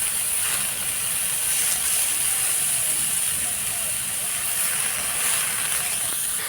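Washed egg greens (gime shak) added to a hot pan with salt and turmeric hiss into a steady, loud sizzle that continues evenly throughout.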